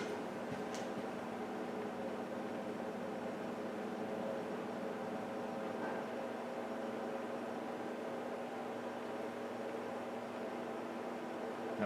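A 5000-watt electric heater mounted on a garage ceiling runs with a steady, even broadband whoosh of fan and airflow and a faint hum, holding constant throughout with no voices.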